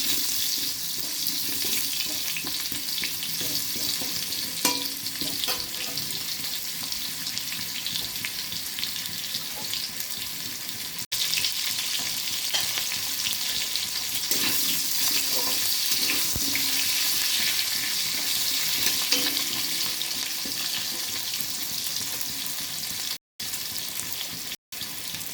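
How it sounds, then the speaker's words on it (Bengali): Potato pieces lightly frying in oil in a pan for a rohu fish curry, a steady close hissing sizzle running unbroken at even loudness, with a couple of brief cut-outs near the end. "আলুগুলো হালকা করে ভেজে ফেলে নেব"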